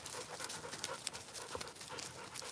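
A dog, either a Rottweiler or a pit bull, pants in quick, steady breaths close by, with a faint whimper now and then and no talking.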